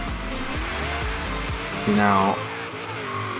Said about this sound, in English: So let's see how much wheel spin we have here.